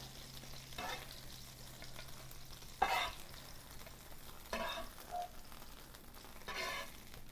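A flour burger sizzles quietly in a pan with onions, a soft continuous frying hiss broken by a few louder bursts of crackle and scraping as the patty is turned, close but low in level with no voices.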